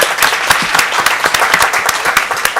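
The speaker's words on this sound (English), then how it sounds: "that's something to clap about" An audience at a school board meeting claps to celebrate a National Blue Ribbon School award, with sharp, distinct hand claps in a steady, moderately dense patter throughout.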